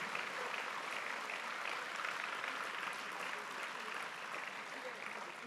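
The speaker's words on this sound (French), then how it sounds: "j'aimerais que vous l'applaudissiez très fort" An audience applauds at a ceremony, a dense, steady wash of clapping from many hands that holds evenly throughout, heard from within the hall.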